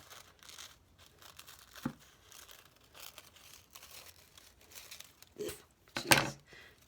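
Scissors cutting paper for the back cover of a handmade book, soft crinkly snips and rustles scattered across the moment, a louder crisp cut near the end, fairly quiet overall.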